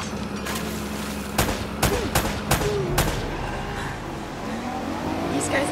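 Gunfire in an Uncharted shootout: several sharp, separate shots crack out in an uneven rhythm over a steady engine-like rumble, mid-distance and loud.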